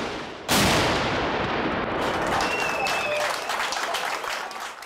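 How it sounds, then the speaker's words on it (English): Gunfire at a huge outdoor machine gun shoot, heard as a loud, dense wall of overlapping shots and rumbling blasts that starts abruptly and carries on without a break. "the world's largest machine gun shoot"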